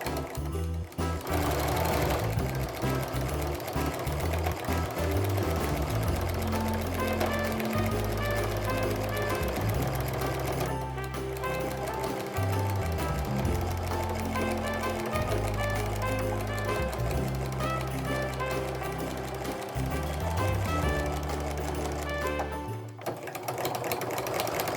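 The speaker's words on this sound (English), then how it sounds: "I'm just stitching in the ditch when I get to these corners." Sewing machine stitching in the ditch on a snowflake mug rug, a close rapid mechanical chatter running in long bursts separated by short pauses, with a voice occasionally talking over it.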